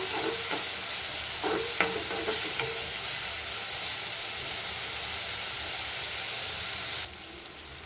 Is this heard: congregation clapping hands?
no